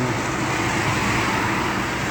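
Steady, dense road traffic streams along Mittraphap Road near Pak Chong in the evening, a continuous close wash of car and heavy-vehicle rumble with no pauses and no voices.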